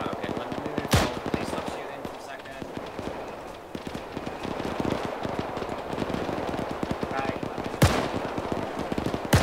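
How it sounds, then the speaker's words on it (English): Machine gun fire rattles through a military video game firefight in rapid bursts with sharp crackling shots, loud and close, while voices talk over the battle. "Get that machine gun up and shoot."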